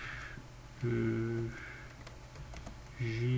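A computer keyboard clicks in a short, sparse run of keystrokes while someone types text into Photoshop, the taps fairly close and set against a steady low hum.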